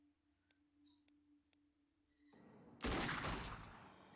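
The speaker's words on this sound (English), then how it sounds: "Burst fire!" SMG burst fire in the tactical video game Xenonauts 2: a few faint clicks, then a loud, dense rattle of gunfire that breaks in suddenly and tails off over a couple of seconds.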